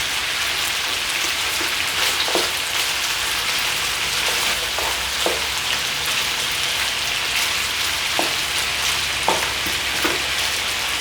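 Beef and lamb curry frying in a pan, a loud, dense, continuous sizzle like heavy rain, with occasional soft stirring taps.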